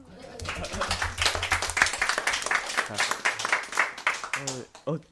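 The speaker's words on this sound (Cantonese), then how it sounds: "掌聲鼓勵" Audience applause on a talk show, a burst of many hands clapping that swells and fades over several seconds, mixed with voices speaking over it.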